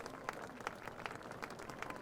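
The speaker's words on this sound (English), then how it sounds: "Nice round of applause here from this crowd at Frank Bailey Field at Bertagna-Class of 1985 Stadium" Crowd at a college football game at Frank Bailey Field, Bertagna-Class of 1985 Stadium, claps faintly and at a distance, a soft, scattered patter of hands for an injured player getting back up.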